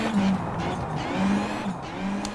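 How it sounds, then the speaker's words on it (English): A rally car in WRC Generations slides through a stage, engine revving near and loud with recurring tire squeal and skidding as it drifts smoothly. "how easily the car just slides, and so smooth"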